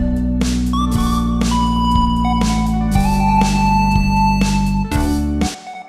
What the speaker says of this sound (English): I'm going to put loads of delay on it.